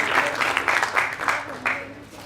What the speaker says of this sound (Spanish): Aplausos a cada uno.